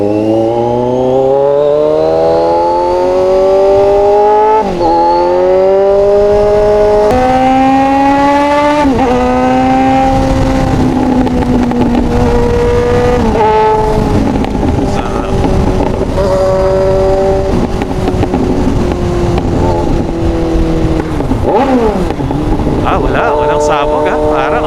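Kawasaki Z1000 motorcycle engine revving loudly while riding on a road, pitch climbing through the gears with shifts and roaring acceleration, close-up with wind noise throughout.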